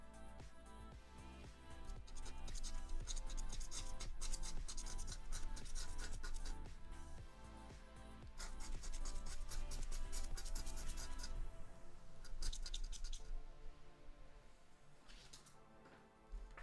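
A coin or scraper rasps repeatedly across a Texas Quick Power 50X scratch-off lottery ticket in close, continuous bursts of dry scratching with brief pauses between strokes.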